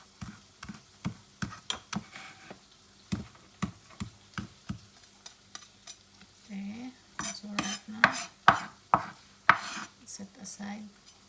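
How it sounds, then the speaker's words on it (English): Knife chopping fresh dill on a board gives a steady series of crisp, close taps, quiet at first and then quicker and sharper with a few light clinks mixed in. "And then chop the dill."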